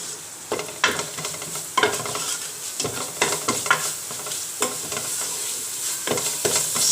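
Spice masala with black pepper roasting in a pan for rajma curry, with repeated loud scraping stirs over a continuous hiss of frying, close and uneven in rhythm.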